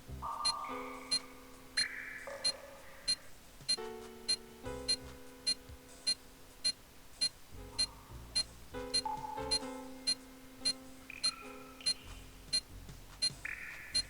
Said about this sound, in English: So now you hear the beeping get louder now that we're down in the sewer again.